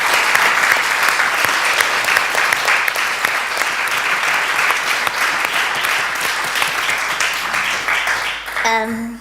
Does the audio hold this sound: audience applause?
yes